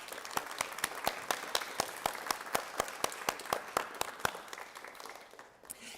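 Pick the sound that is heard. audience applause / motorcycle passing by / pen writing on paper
audience applause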